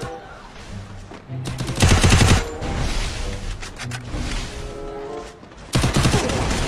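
Gunfire in a video game, with loud bursts of rapid automatic fire coming in clusters at close range over a background of game effects.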